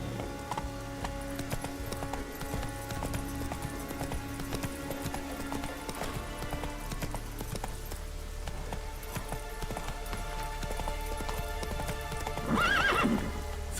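Roach, a horse in The Witcher 3, gallops with a steady rhythmic clip-clop of hooves under game music, and a short whinny sounds near the end.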